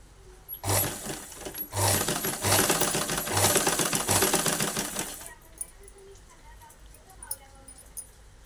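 Sewing machine stitching piping onto a blouse, a dense rapid whirring run of about four and a half seconds broken by short pauses, then stopping, with a voice talking quietly afterward.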